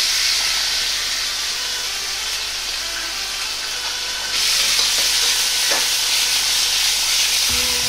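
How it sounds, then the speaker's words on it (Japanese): Pork stir-frying in a tablespoon of oil in a pot for low-carb, gluten-free miso ramen, a steady loud sizzle and hiss running throughout that swells louder partway through, with occasional stirring scrapes and no talking. "豚肉は赤いところが見えなくなるまでしっかりと炒めていきます"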